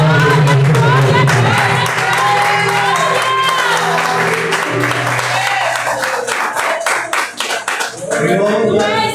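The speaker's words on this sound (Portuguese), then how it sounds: "as palmas de nosso Senhor" Church congregation clapping during a service, loud rhythmic hand claps mixed with raised voices and singing-like tones, thinning out briefly before a final burst.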